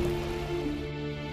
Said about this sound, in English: when it rains, it'll thunder and lightning will strike the ground sometimes